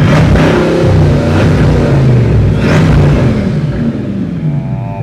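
A Bugatti Divo supercar's 1500-horsepower W16 engine revs loud and close, its note rising and falling through several surges before easing back, with no talk.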